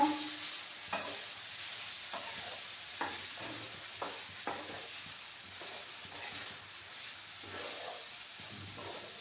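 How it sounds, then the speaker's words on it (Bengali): Semolina upma with vegetables being stirred in a pan, a steady sizzle and hiss with soft scraping strokes roughly every second, close and moderately quiet, no voices. "লবণটা দিয়ে ভালো করে আবার নাড়াচাড়া করে নেব"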